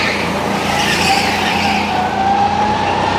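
An indoor go-kart slides through a corner at a track in Cape Town, its tyres squealing in a sustained, loud skid over the engine's drone.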